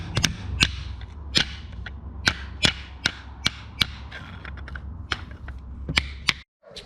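Sharp metallic hammer blows strike repeatedly at an uneven pace, each a crisp loud impact over a low steady hum, then stopping abruptly, as a seal is hammered into an SR20DET engine block.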